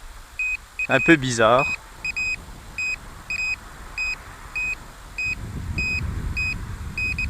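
SJRC F11 brushless drone engaging return-to-home, giving repeated short high beeps in an even rhythm throughout, with someone speaking briefly near the start and a low rumble of handling noise toward the end.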